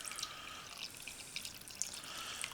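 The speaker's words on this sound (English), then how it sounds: "we're going to add 3/4 of a cup of water" Three-quarters of a cup of water poured into a slow cooker while making Salisbury steak, a faint, steady trickling splash that runs through the whole moment.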